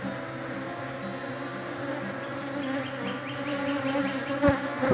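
A dense, steady drone of honeybees fills an opened hive, loud and close, with the buzzing gradually rising in intensity and a few brief knocks near the end.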